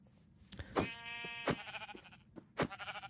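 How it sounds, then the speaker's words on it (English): Sheep in the Minecraft video game bleating while being chased and punched, several wavering bleats interrupted by sharp hit sounds, close and clear. "finds some sheep, and then starts hunting sheep"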